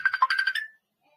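A mobile phone ringtone plays a quick run of bright, chirpy melodic beeps, loud and close, for under a second before cutting off into silence.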